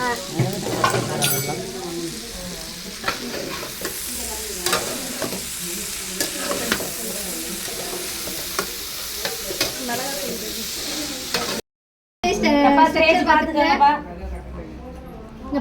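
A spicy thokku relish is stirred in a pan over a low flame, a steady scraping and sizzle running beneath continuous talk, with a louder stretch of stirring near the end after a brief silence.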